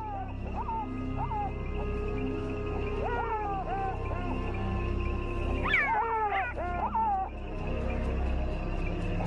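Leopard and jackal snarl, yelp and shriek in a scuffle, sharp rising cries and growls over a low rumbling background.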